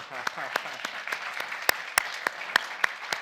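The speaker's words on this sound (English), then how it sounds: "Let's give a round of applause to our colleagues." Scattered applause at a Washington, D.C. forum for panelists, sparse and uneven with a few sharp individual claps standing out over a thin murmur of the room.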